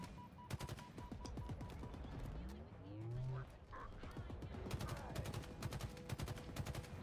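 Rapid gunfire from the video game Halo Infinite, dense bursts running through most of the stretch alongside engine-like sweeps and other game effects, loud and close.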